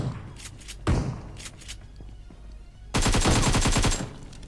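Bursts of rapid automatic gunfire in a shooter video game, a short volley near the start and then a dense, loud sustained burst of about a second, with quieter room noise between and no talk.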